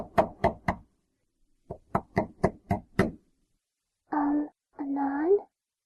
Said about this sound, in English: And then there's a knock at the door.